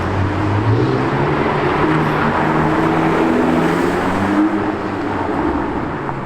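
A Porsche 918 sports car passes at a distance, a steady broad engine and road roar that swells slightly and then eases, with no talk over it.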